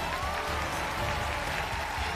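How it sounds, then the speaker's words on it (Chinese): A studio audience at a Chinese television relationship show claps in a dense, even burst of applause that fills the room, steady and loud throughout, with no voices on top. "掌声有请。"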